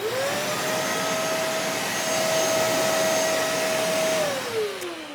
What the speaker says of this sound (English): We can turn it on. It does work at its full capacity and full power.